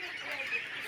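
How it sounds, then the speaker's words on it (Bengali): Farm ducks being let out honk and quack in a continuous, overlapping chorus, close and fairly loud, outdoors on a sunny afternoon with no talking. "এই যে হাঁস ছাড়াম"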